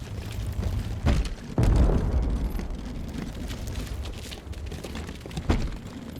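A loud explosion bursts in the Uncharted 4 video game, a heavy boom near the start followed by a rumbling blast at about 1.5 seconds that decays into debris noise, with a smaller pop near the end.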